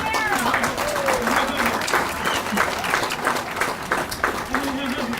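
Crowd applause rolls through an audience at a nature center opening, a sustained, fairly loud patter of many hands, with voices chattering faintly in the background.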